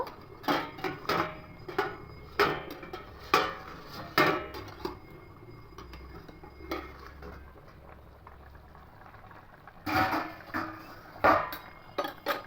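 A metal lid clanks and scrapes as it comes off a pot of simmering egg omelette curry, followed by bubbling and scattered clinks of utensils on cookware close by.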